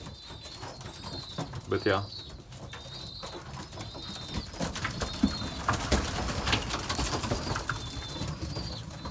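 Belgian racing pigeons coo softly and repeatedly at close range in a loft after a 100 km old-bird race, with occasional wing flaps and someone talking briefly over them.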